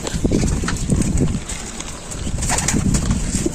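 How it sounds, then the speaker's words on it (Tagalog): Pigeons in a loft give soft rolling coos and brief wing flutters, close and continuous, with a busy rustle of birds moving about. "Yan, kumpleto na tayo mga kalapatids."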